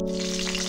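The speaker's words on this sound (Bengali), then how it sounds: "কড়াইয়ে পরিমাণ মতন সর্ষের তেল গরম করে নিয়েছি। মাছের মাথাটা দিয়ে নেব।" A rohu fish head, salted and coated in turmeric, sizzles in hot mustard oil in a kadai, a steady, close frying hiss that holds throughout with a faint underlying hum.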